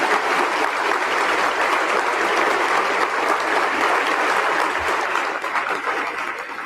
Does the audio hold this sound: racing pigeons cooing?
no